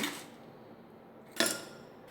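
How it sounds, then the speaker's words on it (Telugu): Ice cubes dropped into drinking glasses for a chilled sabja lemon drink, with a soft clink early on and one sharper, louder clatter near the end, close by and without speech. "గ్లాసెస్లోకి ఐస్ క్యూబ్స్ వేసుకుందాం మనం కొంచెం ఇలాగా ఫ్రెష్ చేసిన ఐస్ వేసుకుందాం"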